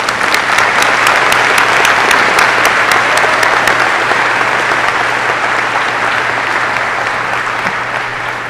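A crowd gives sustained, loud applause at a warrant officer candidate school graduation ceremony, with the clapping dense and steady throughout and fading slightly toward the end.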